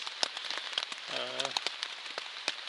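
Rain patters in scattered, irregular drops on a nearby surface along the Appalachian Trail, fairly quiet, with a short voiced murmur in the middle.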